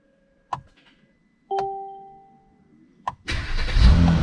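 A car engine, back in service after weeks of repair, cranks through a few short attempts with chimes and clicks in between, then catches and settles into a loud, steady rumble close by.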